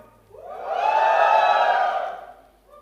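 A live audience at the POCO X2 phone launch event in India gives one short swell of cheering, rising and fading over about two seconds.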